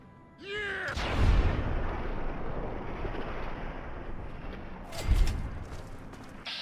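Two deep, booming nuka grenade blasts in Fallout 3, the first roaring up near the one-second mark with a long rumbling tail and a second heavy burst around five seconds, both close and loud.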